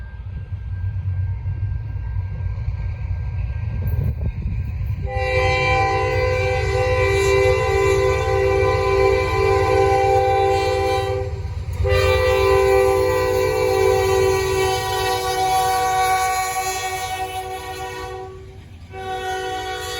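A Norfolk Southern freight train, number 154, travels northbound on the Charlotte District. It sounds two long, loud horn blasts over a steady rumble of passing rail cars, with brief gaps between the blasts.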